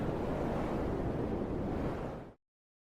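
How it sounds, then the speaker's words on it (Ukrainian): Heavy, roaring surf crashes continuously and loudly, a thick wash of rough stormy water that cuts off abruptly near the end. "і навіть від цього трапляється шторм на морі."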